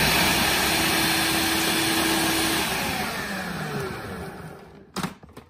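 A food processor chopping cauliflower into small crumbs for a pizza crust whirs loudly and steadily for about five seconds, then cuts off, leaving a couple of brief knocks near the end.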